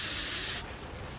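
A first aid spray in a zombie shooter game gives a short, bright aerosol hiss that runs for about half a second and then stops abruptly, leaving quiet background.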